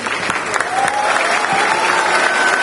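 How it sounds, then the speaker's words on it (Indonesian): Applause for a student at a presidential candidate's Q&A with university students in Pontianak, a dense burst of clapping from the audience, even and sustained throughout. "Tepuk tangan untuk Ray."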